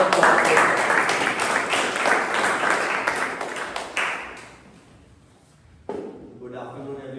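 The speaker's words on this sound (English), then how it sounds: "Round of applause." A Toastmasters club audience gives a round of applause, dense clapping from many people that fades out over several seconds before a voice begins speaking.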